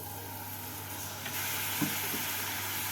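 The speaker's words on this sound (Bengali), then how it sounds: "গুড়টাকে নাড়াচাড়া করে নেব" Jaggery and a little water stirred in a frying pan over a gas flame give a steady sizzling hiss with a faint scrape of the spoon partway through.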